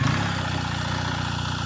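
A BMW boxer-engine adventure motorcycle sits at idle, giving a steady, loud, low throbbing rumble that stays even throughout, with no talking.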